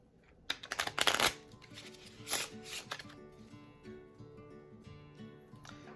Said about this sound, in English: then we'll do a couple of regular shuffles because I need to practice those